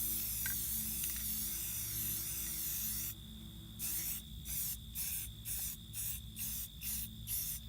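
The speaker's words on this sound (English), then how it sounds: "I'm going to do some slight sprays, not like a dousing, otherwise it'll just start running off." Spray can applying an olive drab base coat to an airsoft gun, a continuous hiss followed by a series of short, evenly spaced bursts of spray close to the microphone over a constant background hum.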